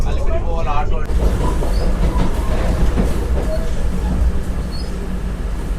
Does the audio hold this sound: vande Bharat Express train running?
yes